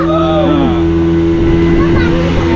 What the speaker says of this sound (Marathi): हो चला, आपली बोट निघाली आणि ही नवीन बोटीचा उद्घाटन झालेलं आहे